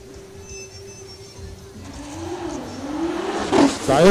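A BMW and another car launch at a drag racing strip in the import challenge category, engines rising from a steady idle drone into climbing revs that swell louder and nearer toward the end, with a faint background voice.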